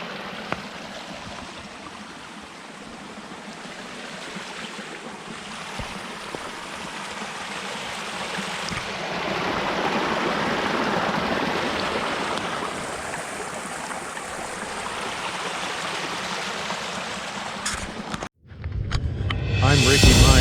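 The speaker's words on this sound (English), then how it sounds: "we got a nice little creek here" A small creek flows with a steady, broad rushing wash of water close by, continuous and fairly loud throughout, ending with a brief jostle of handling noise.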